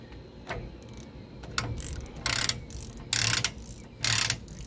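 A hand ratchet tightens a rear axle hub while the hub is spun, giving rapid clicking bursts in about four quick, loud runs separated by brief pauses.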